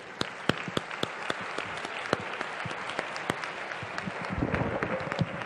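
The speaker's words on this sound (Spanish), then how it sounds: "quiero darle un fuerte aplauso desde mí hacia ellos" An audience at a photography talk in Seville applauds, steady clapping with a few sharp louder claps standing out.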